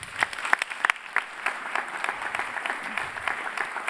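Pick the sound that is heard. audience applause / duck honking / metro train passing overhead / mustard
audience applause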